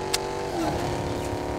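A car engine in a video game, a steady mid-pitched running drone that swells slightly as it revs, close and alone, with a brief click near the start.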